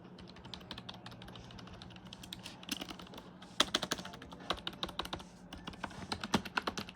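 Keys on a productivity computer keyboard are pressed one after another in irregular taps, clicking close by at moderate volume, with a few sharper, louder strikes.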